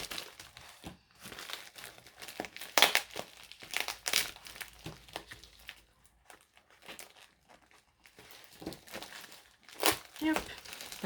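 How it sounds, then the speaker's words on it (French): Bubble wrap is peeled and unwrapped from a parcel, giving irregular bursts of crinkling and crackling plastic close by, with brief pauses between handling movements. "J'essaye de pas trop abîmer le papier bulle parce que ça resserre toujours."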